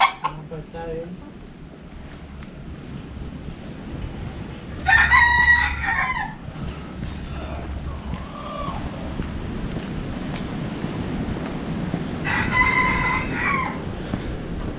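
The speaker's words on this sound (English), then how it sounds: "Roosters everywhere here." Roosters crow in Puerto Rico outdoors near a cemetery and city walls, two clear cock-a-doodle-doo calls several seconds apart over a steady background rumble and distant ambient noise.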